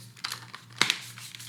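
Parts of an immersion blender click together in a kitchen: a few faint, light clicks, with one sharper snap near the middle, over quiet background hum.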